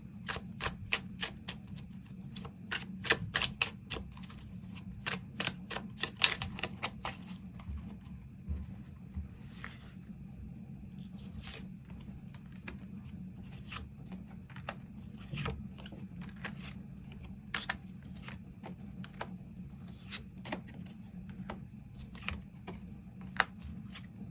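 Tarot cards are shuffled and drawn in rapid clusters of crisp flicks and snaps, close and fairly quiet, then slower scattered taps and slides over a low steady hum.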